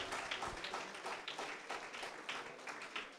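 A church congregation applauds during a worship service, producing dense, continuous clapping at a steady level for a few seconds with no voices over it.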